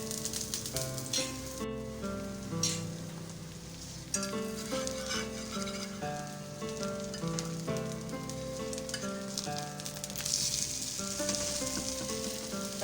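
Besan chilla batter frying in a little oil on a pan over medium-low flame, a soft steady sizzle under background music with occasional stirring or pressing clicks, close by.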